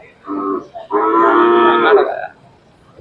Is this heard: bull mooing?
yes